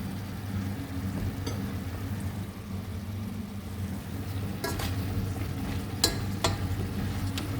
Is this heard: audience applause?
no